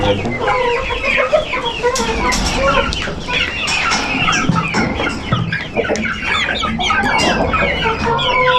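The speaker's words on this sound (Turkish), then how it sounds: "Horoz çok güzel maşallah." A rooster and a flock of chickens, including Ameraucanas, cluck steadily and overlap, with bursts of crowing. The birds sound close and fill a busy farmyard.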